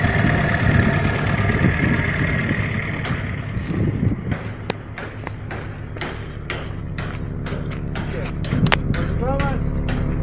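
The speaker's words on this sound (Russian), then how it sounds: "Мотор работает ровно." An Opel Omega B with an X20XEV engine idles smoothly. A steady low hum comes first, then gives way to quieter running with scattered clicks and knocks nearby.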